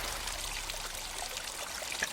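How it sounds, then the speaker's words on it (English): A faint, steady rush of splashing, trickling water, played as a sound effect in an Abbey Crossing ruins scene, continuous and soft with no other sounds. "play the sound of splashing water"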